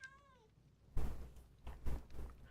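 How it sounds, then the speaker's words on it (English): Short meow from a cat in the video game Minecraft, a single rising-falling call heard alone at the start, followed by louder thumping game sounds. "I heard the cat."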